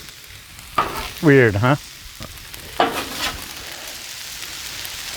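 Vegetables fry on a Blackstone griddle with a steady hiss underneath, while someone speaks briefly and hums a short melodic phrase over it.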